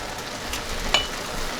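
Pork with water chestnut and red pepper stir-frying in a hot pan, a steady soft sizzle with faint crackles and one brief sharper pop near the middle, quiet and continuous.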